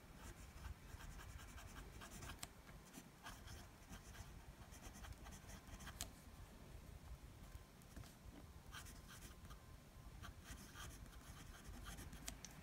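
A Lamy 2019 Bronze Al-Star fountain pen with a dry medium nib and Lamy bronze ink scratches across Rhodia paper, a quiet, continuous papery rasp with small strokes and scrapes throughout, close and alone.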